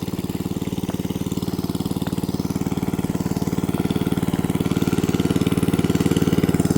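A small water pump engine, running with a fault, chugs at a steady, rapid idle close by, its pulsing drone gradually growing a little louder.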